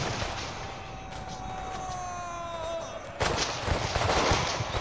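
Gunfire and artillery from a Napoleon: Total War battle, a Naples campaign: steady crackling musketry with a thin whistling tone, then heavier bursts of booming shots from about the three-second mark, loud and continuous.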